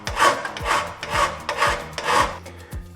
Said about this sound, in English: In my favorite little triangle file, just to get it nice and flat